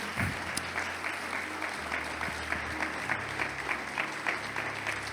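A congregation applauds at a church service, sustained dense clapping from many hands filling the room at a steady level, with a low hum of voices underneath.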